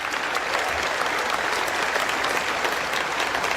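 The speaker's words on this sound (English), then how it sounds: "How about a big round of applause for them?" Loud, dense applause from a large crowd at a graduation ceremony, continuous clapping at an even level from start to finish.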